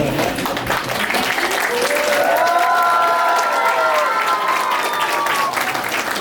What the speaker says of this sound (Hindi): सबको जोरदार ताली बजाएगा स्वागत के तो